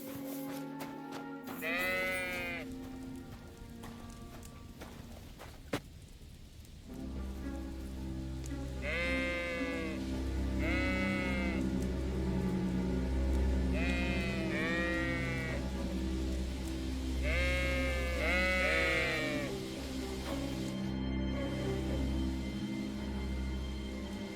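Sheep bleat repeatedly in Kingdom Come Deliverance 2, several wavering calls rising over a low steady rumble and soft rain-like background, with gaps between bursts.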